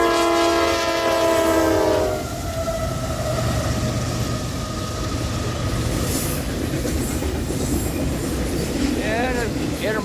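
A Norfolk Southern diesel locomotive works hard at close range, opening with a blaring horn blast and then a steady, loud engine rumble with rolling rail clatter.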